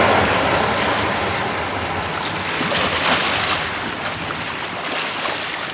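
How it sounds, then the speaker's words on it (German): A motorboat engine drones steadily over broad wind and water noise, rising slightly in the middle as it passes at moderate distance. "Hier vorne fährt auch jetzt ein Motorboot lang."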